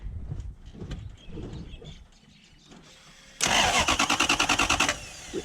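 A Toyota 1UZ-FE V8 in a Hilux LN106 pickup cranks on the starter, a loud rhythmic chugging whir about two seconds long following quieter background sounds, without catching.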